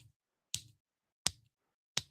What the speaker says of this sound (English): I'm snapping my fingers.